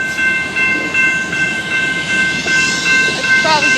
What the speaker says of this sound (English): This train's slowing down.